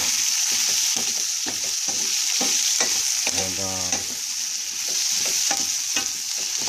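Softened potatoes stirred in a frying pan, a constant close sizzle broken by rhythmic scrapes and taps of the utensil and a brief ringing clank midway.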